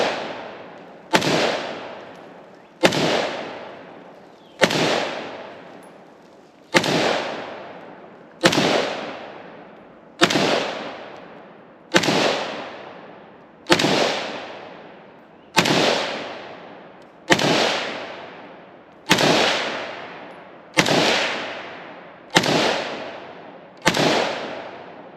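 Rifle shots from a Swiss SIG SG552 and a PE90 fired outdoors at targets, about fifteen loud sharp cracks at a steady pace of roughly one every one and a half seconds, each trailing into a long echoing decay, with no talking.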